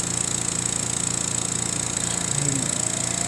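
A Specialty Coating Systems P6712 spin coater motor spinning up toward 2,000 RPM, a steady close mechanical hum with a rapid, regular pulsing flutter and a faint rising whine.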